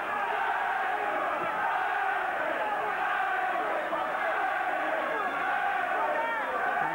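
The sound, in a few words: boxing crowd cheering for Andries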